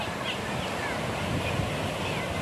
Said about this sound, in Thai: นี่บรรยากาศริมทะเลเป็นแบบนี้เลยนะครับ